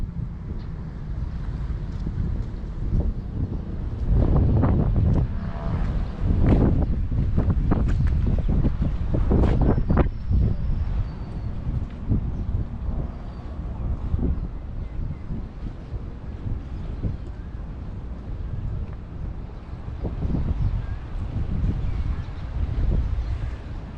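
Strong sea wind in Pattaya buffets the microphone with a loud, steady low rumble and gusting roar that lasts throughout, surging in the middle and easing toward the end, with no talking.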